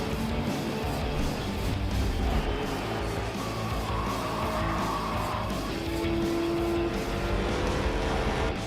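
A Ram Hemi V8 stock car engine roars continuously at a NASCAR-style race, loud and steady with tire noise and passing-car sweeps layered over a busy track din, no voices heard.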